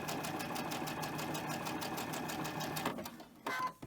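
Rapid rhythmic clatter of a sewing machine stitching cotton fabric, close and steady for about three seconds before stopping, followed by a brief handling sound.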